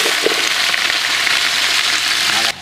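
Hot oil sizzles and crackles steadily close by in a large cooking pot for chicken curry, a dense frying hiss that cuts off abruptly near the end.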